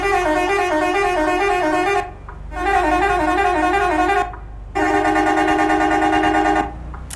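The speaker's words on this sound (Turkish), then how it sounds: "Bu sefer Arap röleli kornayı ekledim." A loud Arab relay horn on a Mercedes-Benz Travego bus in Euro Truck Simulator 2 plays a rising multi-tone melody in three long bursts separated by short silences.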